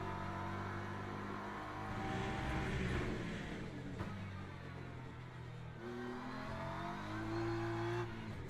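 BMW race car engine in a racing video game at Road Atlanta or Interlagos, a steady close drone whose pitch rises and falls through gear changes, with faint tire noise and no voices.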